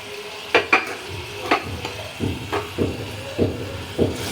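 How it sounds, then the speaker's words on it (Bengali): Fish frying in a pan, with a utensil stirring and scraping: a series of distinct scrapes and knocks at roughly half-second to one-second intervals over a continuous sizzle, close by. "এরপর এর মধ্যে মাছগুলো দিয়ে দেবো।"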